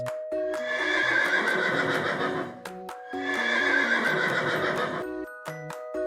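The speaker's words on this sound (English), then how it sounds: "Horse." A horse gives two long, shaky whinnies close by, each trailing off, while faint clip-clop of hooves and a cheerful background melody play along.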